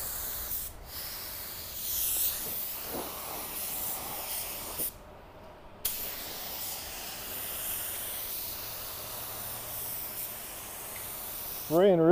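A steady hiss of a budget paint spray gun spraying sealer on a car in long passes, with a brief pause partway through and a short louder burst at the end.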